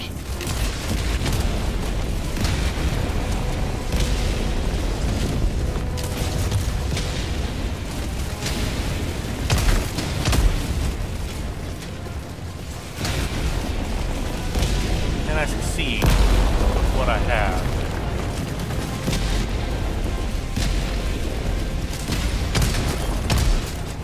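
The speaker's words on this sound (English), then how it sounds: "Firing orbital barrage." Orbital barrage strikes in the video game Helldivers 2 land as a run of heavy booming explosions, loud and rumbling, stacked with gunfire and mixed with talk and in-game chatter.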